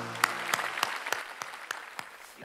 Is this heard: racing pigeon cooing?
no